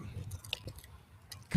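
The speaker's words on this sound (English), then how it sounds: "Constantly chewing." A dog chews steadily on something hard nearby, giving soft, wet gnawing and crunching sounds in irregular bursts, quiet overall with a louder knock at the very end.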